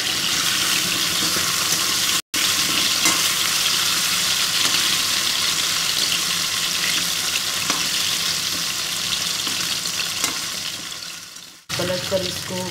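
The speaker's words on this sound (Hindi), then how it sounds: "इनको हम बराबर चलाते हुए डार्क ब्राउन होने तक भूनेंगे।" Arbi (taro root) and nenua (sponge gourd) stir-fry in a kadhai until dark brown, giving a loud, dense, continuous sizzle with faint stirring, broken by two abrupt momentary dropouts.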